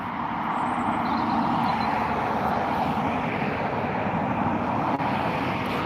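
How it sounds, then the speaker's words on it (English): An Aer Lingus Regional ATR 72-600 turboprop takes off from Dublin Airport, a continuous broad engine roar heard at a distance, steady and unbroken throughout. "taking off now, I don't suppose we'll have a very nice view of this, is the Aer Lingus Regional ATR 72-600 heading over to Edinburgh"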